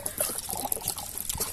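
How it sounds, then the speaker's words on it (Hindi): Water is poured into a pot on a stove for making rice pinni, a steady close splashing and trickling that lasts a second or two with no talk. "पानी डालना चूल्हे पे"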